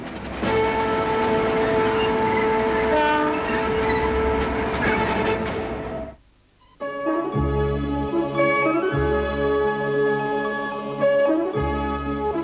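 A heavy coal train rumbles past with rhythmic clacking of wheels over rail joints, loud and close, then wagons continue rolling by steadily.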